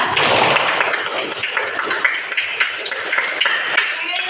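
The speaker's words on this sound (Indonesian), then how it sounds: "Tepuk tangan untuk Raisa." A school class claps together in a quick, uneven burst of applause, fairly close, with voices chattering over it.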